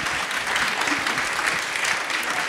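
Audience applause at a plant-based diet talk in Brooklyn, a steady wash of many hands clapping throughout, fairly loud and even, with no talking.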